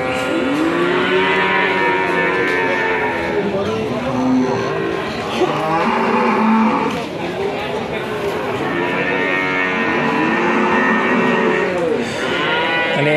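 Cattle at a bustling livestock market moo loudly and continuously, several animals overlapping close by amid crowd noise and talk.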